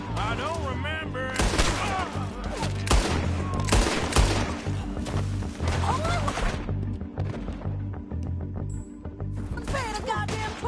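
Gunshots in the video game Red Dead Redemption 2, a series of sharp cracks spaced across a busy game soundscape with music and ambient noise; voices talk in between the shots.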